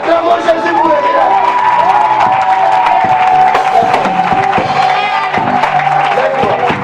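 A church congregation cheers, whoops and claps loudly to acclaim Jesus for a miracle, a sustained, close roar of many voices with raised shouts and applause throughout.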